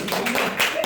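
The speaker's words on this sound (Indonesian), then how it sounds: "kasih aplaus untuk kelompok" A classroom audience claps for the presenting group at a school food presentation, a brief, dense, steady patter of many hands at close range.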